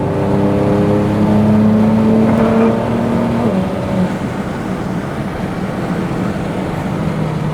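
A Nissan GT-R drives along a road, its engine droning loudly with a steady tone that rises slightly before easing off, accompanied by continuous road and wind noise.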